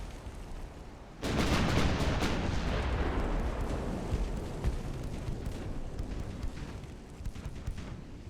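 Warship big guns fire in Ultimate Admiral: Dreadnoughts, a naval battle game set in the Black Sea in 1941. A sudden heavy boom breaks in, then a dense, rumbling roar of ongoing gunfire holds loud to the end.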